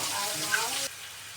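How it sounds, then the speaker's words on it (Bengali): Potatoes fry in hot oil in a pan, giving a bright, steady sizzle that drops away suddenly partway through, leaving a quieter crackle. "আলুটাকে এভাবে লাল করে ভেজে নিব আমি সবগুলো আলুকে।"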